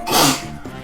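A single sharp human sneeze during a live gaming stream, loud and close, with a burst of noisy breath that trails off into quieter room sound.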